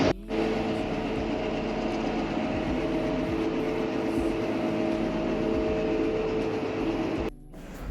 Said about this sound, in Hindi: तो यहाँ पे एक जो ट्रेन थी वो हमारे सामने जा रही थी